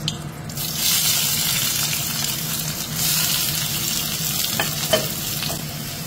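Onions and garam masala fry in a pot for chicken kosha, a close, lively sizzle with stirring scrapes and a few sharp clinks of a spoon against metal, without speech.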